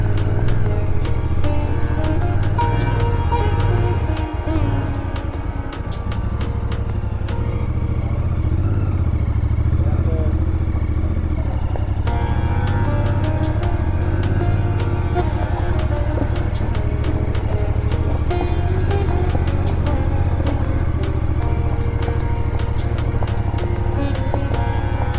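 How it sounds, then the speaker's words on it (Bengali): Motorcycle ridden slowly over a rocky, stone-strewn road on a Delhi to Rishikesh trip, its engine a loud, steady drone close by, with rattling and clatter from the rough surface and a brief easing midway. "তবে যতদূর পর্যন্ত বাইক যায় ততদূর পর্যন্ত নিয়ে যাব আস্তে।"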